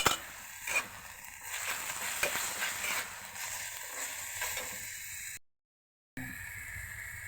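Beef and spices fry in hot oil with ginger-garlic paste, a steady bright sizzle with occasional stirring scrapes, briefly cutting to silence before the sizzling resumes.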